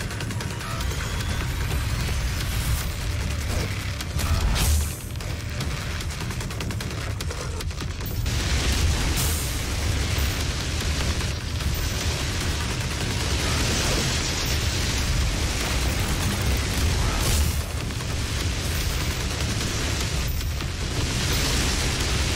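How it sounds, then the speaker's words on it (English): Frag grenades explode in Doom, a rolling series of booms and bursts over several seconds among constant game noise, with a voice talking now and then. "It's easy just to have frag grenades on him."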